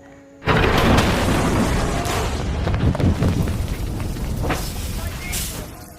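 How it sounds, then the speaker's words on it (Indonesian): A sudden, massive explosion bursts in after a brief quiet, followed by a long roaring rumble and crackling debris that slowly fades. "Pendaratan tersebut sangat mendebarkan hingga terjadi ledakan yang dahsyat."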